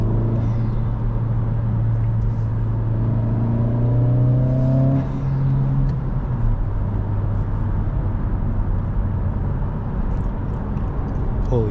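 A Honda Civic Si engine drones steadily from inside the car while driving, with the revs climbing in a smooth sweep over the first few seconds before settling back to an even, close cruising hum.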